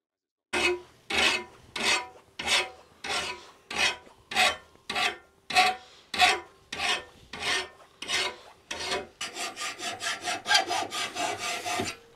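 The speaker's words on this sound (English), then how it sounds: "As you can see, the file does a fantastic job." A hand file sharpens a garden lawn tool blade in about fifteen evenly spaced rasping strokes, close and clear, quickening into shorter, denser strokes near the end.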